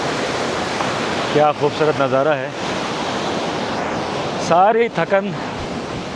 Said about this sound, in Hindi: ये ग्लेशियर से बराह रास्त आता हुआ पानी